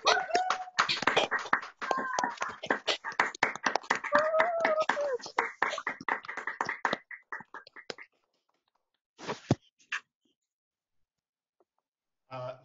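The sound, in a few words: online graduation audience applause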